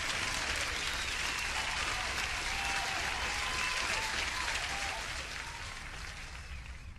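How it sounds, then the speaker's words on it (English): Steady, dense applause from a large crowd, clapping continuously throughout and fading slightly toward the end. "You deserve an applause."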